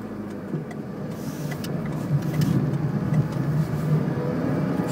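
A car drives steadily along a road toward a junction during a driving lesson, its interior engine and road noise a constant, moderately loud rumble with a slight swell midway and no talking.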